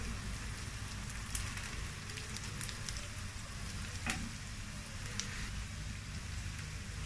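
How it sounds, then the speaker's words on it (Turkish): Onions sautéing in butter in a pan, a soft continuous sizzle and crackle with occasional sharper pops, close and steady with no talking. "soğanlarımızı biraz da tereyağı ile birlikte sotelemeye devam edelim"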